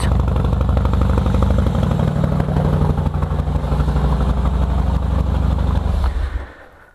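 Harley Dyna Superglide Custom motorcycle, stock and not yet mapped, idling loud and close with a deep, uneven lumpy rumble and mechanical clatter, running steadily before being shut off and fading out at the end.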